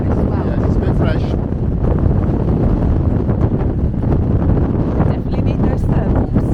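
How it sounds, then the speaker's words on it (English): Strong wind buffets the microphone on a ferry deck near the Faroe Islands, a loud, continuous low rumbling roar that never lets up, with voices talking faintly underneath. "excuse the wind, it's very windy."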